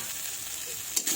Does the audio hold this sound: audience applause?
no